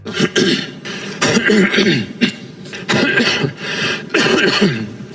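A man coughs and clears his throat repeatedly in rough, hacking bursts, close to the microphone, with short pauses between fits.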